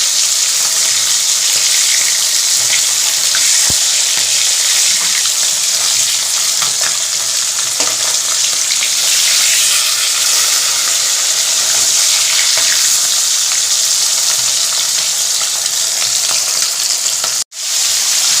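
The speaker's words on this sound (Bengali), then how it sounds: "মাছগুলো ভাজা হয়ে এসছে এতক্ষণে" Oil sizzles and crackles loudly and continuously as fish fry in a pan, a steady close hiss with an occasional brief pop.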